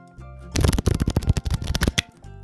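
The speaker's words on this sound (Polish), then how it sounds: "Karty zostały przetasowane" A digital solitaire game plays its card shuffle effect, a quick rapid burst of riffling card flicks lasting about a second and a half, crisp and close, set against a quiet soft tone.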